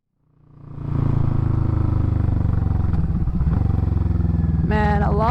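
A Kawasaki Vulcan 650 motorcycle, unrestricted, starts up and rises to a loud, steady close-up engine rumble that holds, then revs higher near the end.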